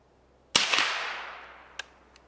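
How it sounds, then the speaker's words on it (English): A single sharp .22 Long Rifle shot cracks close up, fired into a stack of carpet squares, its report ringing out and decaying over about a second, followed by two faint ticks. "Can we shoot through a bunch of carpet squares with 22 long rifle?"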